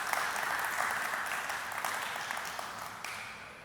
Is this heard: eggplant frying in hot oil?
no